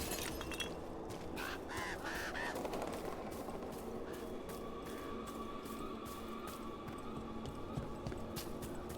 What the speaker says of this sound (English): With all the crows or ravens